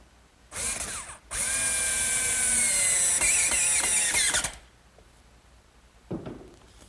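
A power drill spins up with a pocket-hole guide to bore blind screw pockets in wood for a bookcase. The motor runs loud, steady and close for about three seconds, then winds down, with a brief clunk after it.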